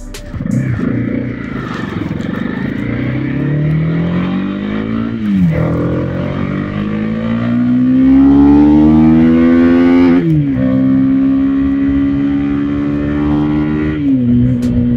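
A Honda CB300R motorcycle accelerating hard through the gears, its engine note climbing in pitch with brief dips at each shift, loud and close with no speech.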